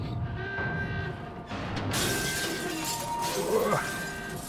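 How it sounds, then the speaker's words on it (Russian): Glass shatters in the horror video game Anabiosis (Anabiosis: Sleep of Reason), a loud crash with tinkling debris at about two seconds, set against a dense, noisy game soundscape. "Капец, стекло вынесло."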